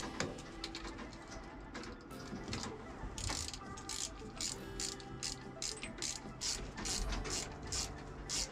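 A ratchet tightens the nuts on an A320 APU generator, a steady close clicking of the pawl that speeds up in quick bursts over a constant mechanical hum in a hangar setting.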